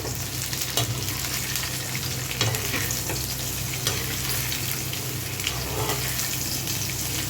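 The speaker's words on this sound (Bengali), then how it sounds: "আবার একটু ভালো করে নড়িয়ে দিতে হবে।" Bitter gourd and onions sizzle steadily in a frying pan, loud and close, with occasional scrapes and clinks from stirring and no voices.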